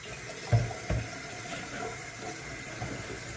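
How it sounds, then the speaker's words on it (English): Cold water runs from a tap into hot tea being made for kombucha, a steady close flow with a couple of clunks from the vessel near the start. "I'm just adding in cold water"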